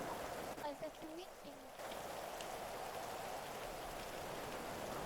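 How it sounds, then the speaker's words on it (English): Heavy stormy rain in GTA V, a dense constant hiss of downpour that stays loud throughout, with a brief muffled dip near the start and faint background game sounds. "I think we should all speak up because this rain is kind of loud."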